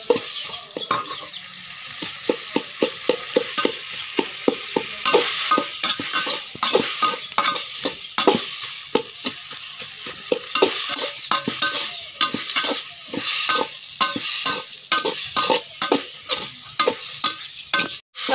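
Ingredients for a Tamil fish curry sautéing in a pan, a spatula scraping and stirring in a fast, loud, continuous rhythm over steady frying sizzle, with no voices.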